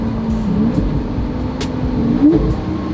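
A car on throttle with its engine droning steadily and rising in pitch as it revs, a short shift-like change near the end, heard up close with no talk.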